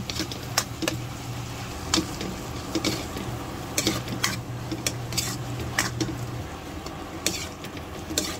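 Boiled chicken liver stirred into a cooking pan with a utensil, steady sizzling under repeated sharp scrapes and clinks of metal against the pan, close and without talk.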